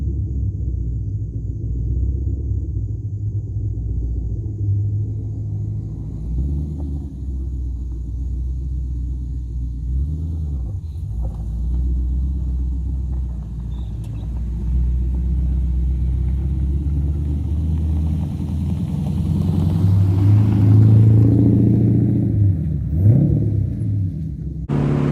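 LS V8 engine in a Porsche 944 on a road test drive, a steady loud low rumble from inside the car that swells as the engine revs up near the end.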